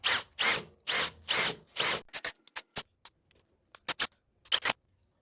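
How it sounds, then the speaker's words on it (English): Drill bit one size larger than the hole boring down into a dipstick tube, heard as a series of rough, grinding bursts, several long near strokes at first, then shorter scattered bites with pauses between. "I'm going to drill down and see where that gets me."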